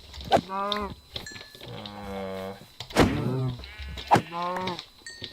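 Several Minecraft cows moo in turn, with four separate drawn-out lowing calls spread across the stretch, fairly loud and close with brief gaps between them.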